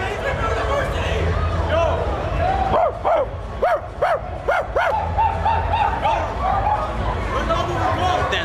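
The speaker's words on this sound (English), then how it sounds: "When I put it down, you bark." A dog barking on command indoors: a run of about six quick, sharp barks in the middle of the clip, with someone talking before and after and a whiny yip trailing off near the end.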